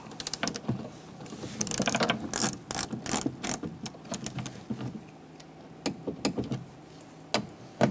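A torque wrench ratchets on window regulator bolts of a 2004-2009 Mazda 3 being fitted, torqued to 60 inch-pounds: bursts of close, sharp ratchet clicks in quick runs, separated by brief pauses.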